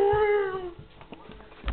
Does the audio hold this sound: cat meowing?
yes